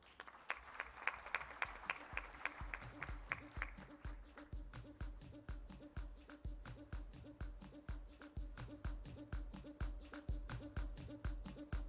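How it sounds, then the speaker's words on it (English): Audience applause at the Pearl of Africa Tourism Expo, rendered as a steady, rhythmic beat of claps with a low musical tone underneath, faint and continuous for about twelve seconds. "Ladies and gentlemen, round of applause."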